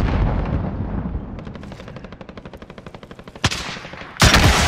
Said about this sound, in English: Launching rocket.